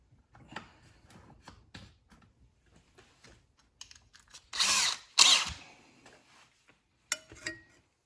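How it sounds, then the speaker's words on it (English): Two short bursts of a power drill with an 8-inch bit drilling a small hole whine loudly up close, separated by a brief pause, amid quieter clicks and handling noises. "I'm going to put a little hole right next to it with an 8-inch drill bit."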